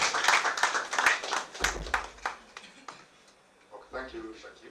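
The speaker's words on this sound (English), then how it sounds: "Round of applause as he comes up." Scattered, uneven clapping at a corporate partners' launch event, loud individual claps thinning out midway, with talking and low thumps underneath.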